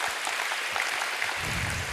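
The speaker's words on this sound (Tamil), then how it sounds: "அதிகமாக கைதட்டுங்க" Students at a school assembly clap in a broad, continuous burst of applause, with the crowd noise swelling slightly toward the end.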